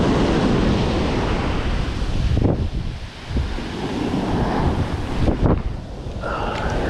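Shore breakers crash and wash continuously on a Southern California beach, a loud, close surf roar with gusty wind buffeting the microphone and a few sharper surges, no voices.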